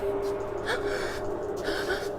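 A character in the video game NaissanceE breathes in heavy, gasping bursts, several audible inhales and exhales over a steady ambient drone, near and fairly quiet with no talking.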